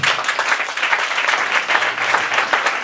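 Church congregation clapping together, a dense, fairly close burst of applause that holds steady for a few seconds.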